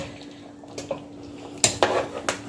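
A spoon knocking against a pot while crayfish and pepper are stirred into Nigerian turkey stew, a few clinks and scrapes over a quiet kitchen background.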